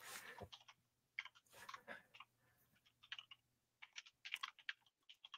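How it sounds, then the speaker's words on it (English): Typing on a computer keyboard into a notepad: quick irregular bursts of key clicks separated by short pauses, quiet and close, with no talk. "That's me typing it in my notepad for my cheat sheet."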